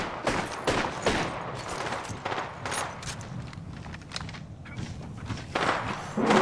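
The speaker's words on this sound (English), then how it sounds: "Hostile spotted. Opening fire." Gunfire in the video game Apex Legends, rapid bursts of shots that fire irregularly, close and fairly loud, with thuds and footsteps running between the volleys.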